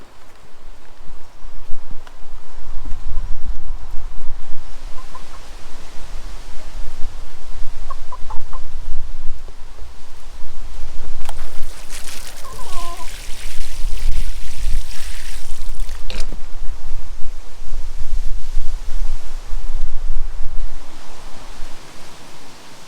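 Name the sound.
wind blowing in the garden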